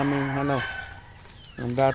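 Two loud squawks or crows from a sick chicken, one at the start and another near the end, with harmonic calls and a quieter noisy stretch between.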